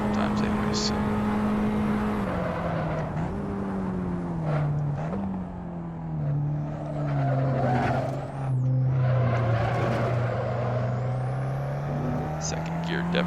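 An Abarth 500 Esseesse on a hot lap in the racing game Assetto Corsa, its engine droning loudly with pitch rising and dropping through gear changes, with bursts of tire squeal in the corners.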